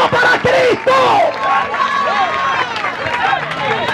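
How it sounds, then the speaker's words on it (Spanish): A church congregation cheers and claps during a lively service, with excited shouts and whoops over a crowd din for a few seconds, and voices ring out above the noise. "Démele aplauso a Cristo fuerte por ella."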